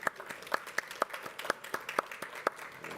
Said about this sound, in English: Please join me in an applause for the panelists.